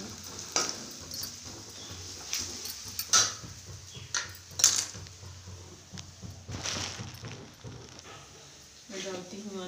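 Turmeric and coriander cook in a pan with soft sizzling, punctuated by several scraping stirs and clinks of a utensil against the pan, while someone talks over it.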